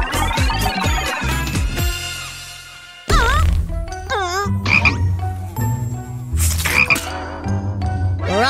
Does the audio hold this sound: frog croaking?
yes